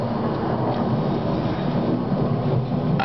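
Thunder from a lightning strike rolls through a severe thunderstorm, a loud sustained rumble blended with rain and wind buffeting the microphone, steady for the whole stretch.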